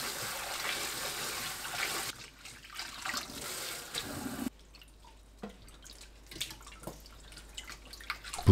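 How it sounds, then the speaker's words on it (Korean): Blanched eomnamu shoots are rinsed under cold running tap water in a sink, with a steady rushing stream at first, then softer splashing, dripping and handling sounds as the flow changes. "바로 찬물에 헹굽니다."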